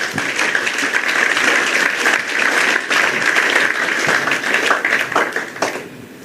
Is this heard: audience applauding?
yes